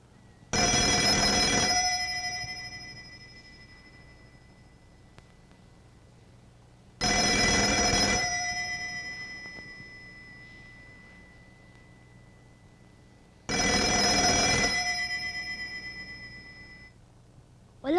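An old landline telephone rings on and off and goes unanswered in the early hours: three loud bursts of bell ringing, each about two seconds long and spaced about six seconds apart, with quiet room tone between them and no voices.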